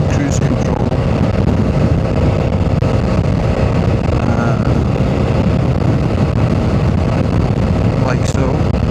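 A motorcycle cruising along a road on cruise control, with a steady, loud engine drone and broadband wind rush throughout, under a rider's voice talking.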